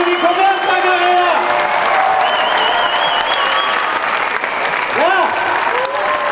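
A dense crowd applauds loudly and steadily at a fashion show during the 2015 German Down syndrome sports festival, with whoops, cheers and a shouted voice rising over the clapping.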